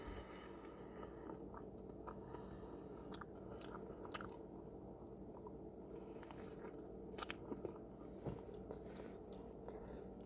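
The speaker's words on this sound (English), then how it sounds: "This is me taking a couple bites out of each sandwich" Bites into Burger King sandwiches, soft, wet squishing and crunching chews repeated in short bursts close to the mic over a low steady background hum, with no talking.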